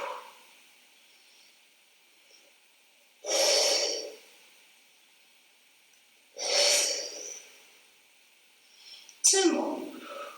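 Three forceful, breathy exhales during a Pilates mat exercise with a magic circle, evenly spaced every few seconds, close and airy, with quiet background between them.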